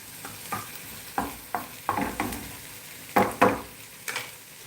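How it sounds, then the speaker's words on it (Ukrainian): Onion frying in a pan as it is stirred, a low sizzle under a series of scraping, knocking stirs that come every half second or so at close range. "цибуля в нас підсмажилася"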